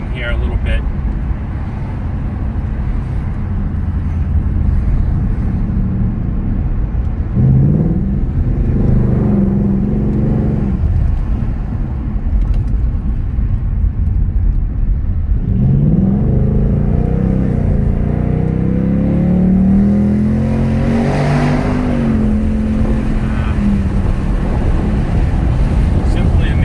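Ford Mustang GT V8 engine rumbling loud and close throughout, rising twice in revs as it accelerates, with a deep drone over road and wind noise.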